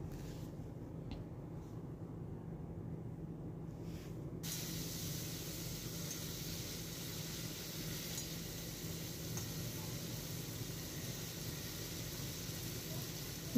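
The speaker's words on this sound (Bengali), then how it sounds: "তাই খুব হালকা করেই চিংড়ি মাছটা ফ্রাই করে নেব" Prawns frying lightly in oil in a wok, a steady broadband hiss and sizzle that continues throughout, brightening after the first few seconds as the frying intensifies.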